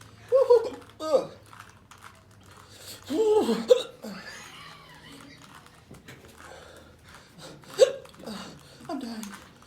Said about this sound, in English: Oh, I got the hiccups.